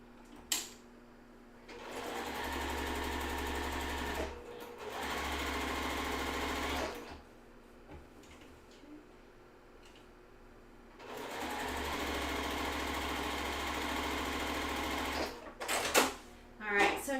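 Sewing machine stitching a quilt block in three sustained runs separated by pauses, a steady motor whir with rapid needle chatter, close and clear.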